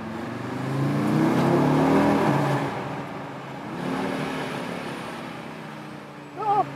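A 400 hp Audi RSQ3 SUV revs its engine inside a tunnel, swelling in a loud echoing surge, easing off, then rising again in a shorter burst, with a brief sharp sound near the end.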